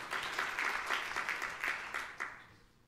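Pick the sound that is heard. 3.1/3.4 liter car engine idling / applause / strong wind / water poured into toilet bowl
applause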